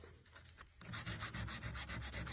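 120-grit sandpaper rubs old stain off a vintage bow-front mahogany dresser in quick, rhythmic back-and-forth strokes, close and fairly quiet, with one softer stroke before steady sanding begins.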